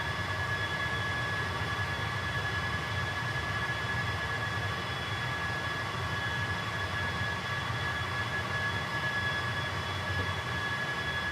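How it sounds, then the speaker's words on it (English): Inside the cabin of a NOAA Twin Otter survey plane in flight, a loud, unbroken engine drone fills the space, steady broadband roar with a constant tonal hum throughout and no voices. "This plane is, as I said, made for low-level surveys, flying really low to the ground"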